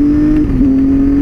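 A Triumph Tiger 800 motorcycle engine pulls steadily out of a roundabout, a close, continuous drone holding one even tone with a slight dip midway through a short, loud burst.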